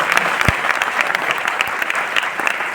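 An audience at a success celebration event in Delhi claps together in a dense, sustained burst of applause with scattered louder individual claps.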